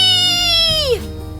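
Single drawn-out cat meow in a toy play scene, loud and close, holding steady before sliding sharply downward at the end.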